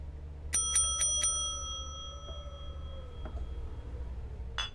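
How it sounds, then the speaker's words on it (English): A bell rung in four quick bright dings near the start, ringing on with a fading tone, followed later by a single softer ding against quiet room noise. "What about that bell?"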